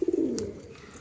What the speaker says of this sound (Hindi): ये जो कबूतर होते हैं ये देखिए किस तरह से मिट्टी को खा रहे हैं